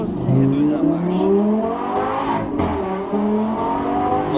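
A Lamborghini Gallardo Superleggera engine revs sharply on a downshift, with repeated rising and falling blips of engine pitch. The car sounds close and loud, and a voice can be heard alongside it.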